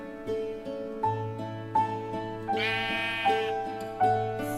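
Sheep bleat repeatedly in a steady sequence of short, close, tonal calls, each starting with a slight swell and following the last at regular intervals.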